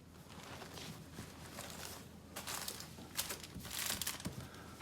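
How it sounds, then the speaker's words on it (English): A foil-wrapped pork butt is unwrapped close by, with soft crinkling and crumpling of the foil that comes in bursts and gets louder toward the end. "I think it's time to unwrap this one and check it out"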